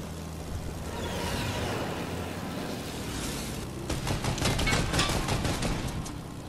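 An X-4 Stormwing plane in Fortnite firing on enemy structures: a steady engine drone gives way to a loud run of rapid, crackling shots in the final seconds.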